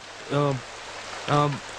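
Steady rain hisses in the background, interrupted twice by short, loud tonal blasts a second apart.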